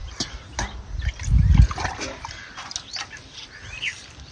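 Water is poured over green peas in a bowl for washing, giving a short gush of splashing and trickling near the middle, with small taps and clinks around it.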